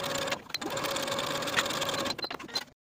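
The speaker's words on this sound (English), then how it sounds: "Sew both side seams with a 5/8 inch seam allowance" Sewing machine stitching the side seams of a dolman dress with a 5/8 inch seam allowance, running in a steady continuous whir close up, pausing briefly twice before stopping near the end.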